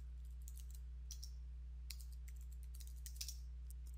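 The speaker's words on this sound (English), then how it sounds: "Let's type in my name and my password." Name and password typed on a computer keyboard, quick irregular bursts of light key clicks over a low steady hum, faint and close, no talking.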